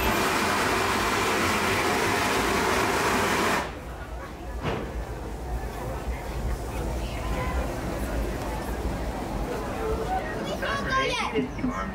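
The Disneyland Railroad train rolls into New Orleans Square Station, a loud rumbling ride that drops to quieter wheel noise and squeals, with an announcer's voice over the top and children's chatter.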